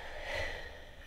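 A single slow inhale during guided meditation, soft and close, swelling to a peak midway and then fading, with no talking over it.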